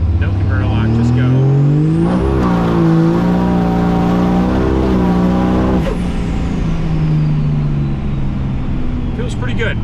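A 1000HP Cummins diesel truck pulls hard from a rolling start with no converter lock, engine note climbing through the gears with a loud, close roar inside the cab and a brief hiss around a shift.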